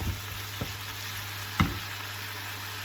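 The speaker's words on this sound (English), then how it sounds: "Now I can start to mix onions in." Onions being stirred into a pan of chilli con carne, with a steady low sizzle of frying and a few soft scrapes and knocks of the spoon against the pan.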